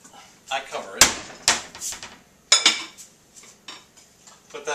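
A lid goes onto a container of fresh salsa cruda, giving a few sharp plastic or dish clatters and knocks, close and fairly loud, among other kitchen handling sounds.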